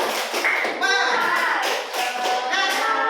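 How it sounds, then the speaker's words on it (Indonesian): A group in an Indonesian classroom training session does a rhythmic spirit chant, voices chanting together in unison over steady sharp claps and taps, close and lively for the whole stretch. "Sekarang tepuk semangat dulu."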